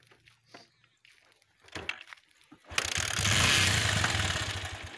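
A few mechanical clicks and clatters, then an old Bajaj Pulsar 150cc motorcycle engine catches and settles into a loud, steady idle close by.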